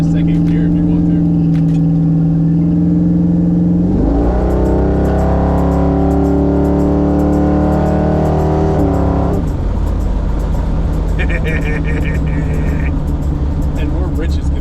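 A car engine pulls through the gears, a steady low drone rising in pitch, dropping at a shift around four seconds and again near nine, with occupants talking over the running engine inside the cabin.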